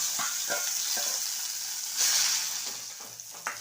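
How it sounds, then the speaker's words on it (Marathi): Tomatoes sizzle steadily in leftover oil in a pan, a continuous close hiss broken by a few soft stirring knocks and spatters, with no talking. "तर इथे राहिलेल्या तेलामध्येच हे टोमॅटो हळू तसे टाकायचे"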